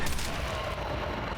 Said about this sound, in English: I'm trying to shoot him to get him to come over this way